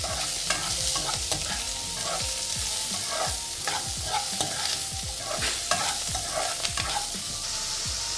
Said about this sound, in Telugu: ఆనియన్ బ్రౌనిష్ అయ్యేంత వరకు మనం దీన్ని వేయాలి.